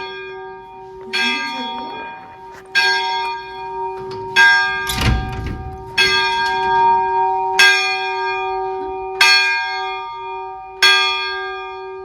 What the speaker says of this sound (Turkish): Çanlar çalıyor.